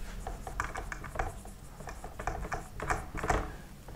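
Hand writing out a maths solution: faint, close scratching strokes of a pen on paper in short bursts, with small pauses between words.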